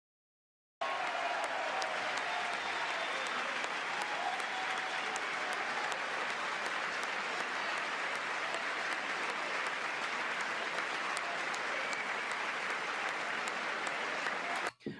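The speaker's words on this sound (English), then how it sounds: "Are they clapping like this after the 3rd or 4th or 5th time it happens?" A large audience breaks into sustained, steady applause that carries evenly from start to finish, dense and loud, with no voices rising above it.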